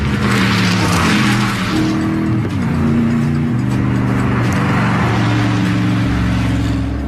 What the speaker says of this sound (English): the only thing disturbing the peace are light aircraft and the occasional low-flying supercar